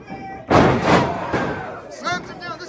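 A wrestler is slammed down onto the ring mat with a loud, sudden thud, followed by crowd noise and an announcer talking over the impact's fading echo.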